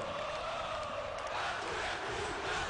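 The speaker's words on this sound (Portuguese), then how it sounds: "E aí a torcida tricolor em êxtase." Bahia's tricolor supporters roar continuously in a packed stadium during a 2015 Série B match against Botafogo, a dense, steady crowd din with no break across the short stretch.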